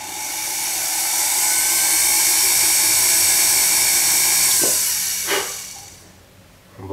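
Jewelry setting burr drilling a flush diamond seat in a snake cuff bracelet, a high whining dental-drill-like hiss held steadily, close, then winding down with two brief scrapes before stopping.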